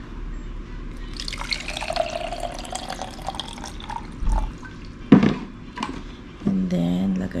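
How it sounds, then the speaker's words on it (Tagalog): Water poured from a tap into a baby bottle to make milk formula at home, splashing and trickling with a few sharp drips and knocks, under quiet background sounds. "So, lagyan natin ng tubig."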